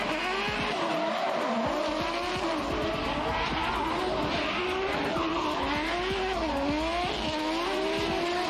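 Formula Drift Japan cars sliding sideways at Okayama International Circuit, engines wailing with wavering pitch over continuous loud tire squeal, several cars close together in a dense, unbroken roar.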